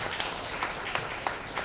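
Audience applause at an album launch event for a violinist's new album, a steady wash of clapping from a seated crowd with a few sharper claps standing out, moderately distant.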